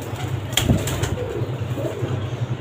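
Golden pigeons coo softly in a loft, a low steady murmur with a brief flutter of wings, no talking.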